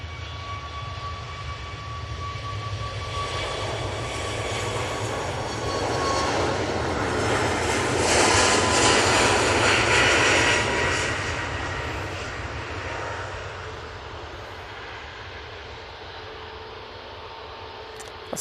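A Ryanair jet taking off for Barcelona roars as it passes fairly close, swelling to a loud peak midway and then easing off, with a steady high engine whine running through.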